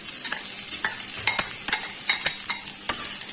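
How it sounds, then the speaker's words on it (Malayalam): Grated carrot stirred in hot ghee in a pan, with rhythmic scraping strokes of a spoon over a soft, steady sizzle, close and fairly loud. "ക്യാരറ്റ് ഒന്ന് പതുക്കെ വാട്ടിയെടുക്കണം"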